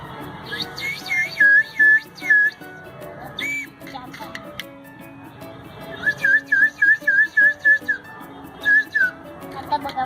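A toy whistle blows in short shrill toots, first a few then a rapid series of bursts, with faint voices and clatter in the background.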